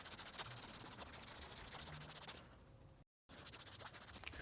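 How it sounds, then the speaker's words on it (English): Golf club part being sanded by hand with 500 grit sandpaper, a close, rhythmic back-and-forth scratchy rubbing with quick strokes, a short pause, then the strokes resuming. "And then I've got some 500 grit sandpaper."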